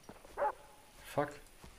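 Two short, distant dog barks sound in Far Cry 3, about three quarters of a second apart, amid quiet game ambience with a faint trace of voice.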